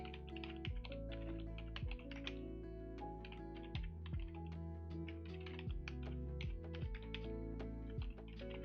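Rapid, close computer keyboard typing clatters in uneven bursts over a steady repeating musical backdrop, with no voices.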